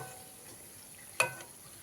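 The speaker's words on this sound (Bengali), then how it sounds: "এইভাবে সমস্ত এগুলো আমি ভেজে নেব কোপ্তাগুলো ভেজে নেব" Quiet, steady sizzle of green banana koftas frying in hot oil, with a single sharp clink of a utensil partway through.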